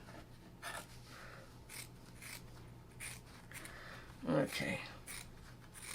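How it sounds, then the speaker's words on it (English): Scissors snip through quilting fabric blocks in a few short, soft cuts and rustles, close and quiet, while someone briefly speaks. "And cut right up the middle."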